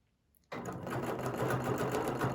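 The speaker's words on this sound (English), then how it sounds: "I'm going to stitch up until my needle is in alignment with this little line that's on the ruler here" A sewing machine stitching along a quilting ruler starts after a moment of quiet and runs at a steady, fast, even hum of needle strokes, close and alone.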